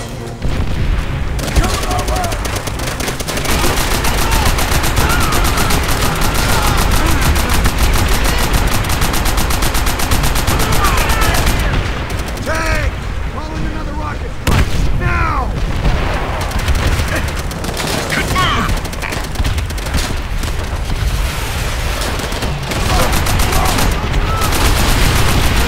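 Call of Duty: World at War battle with steady, loud machine gun fire and booming explosions packed tightly throughout, with shouted voices breaking through the dense gunfire.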